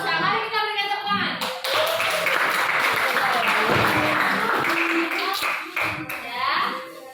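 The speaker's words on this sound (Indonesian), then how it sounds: "Mari kita berikan tepuk tangan." Classroom audience applause after a teacher-training presentation, a burst of hand clapping that swells and holds steady for several seconds before tapering, with a voice speaking at the start and end.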